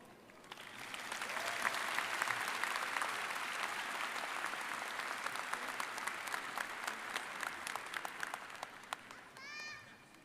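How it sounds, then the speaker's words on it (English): Applause fills the hall at a university graduate college spring commencement ceremony, rising to a broad, sustained roar with some sharper claps and a few cheers, then easing off near the end. "Another round of applause for our commencement speaker."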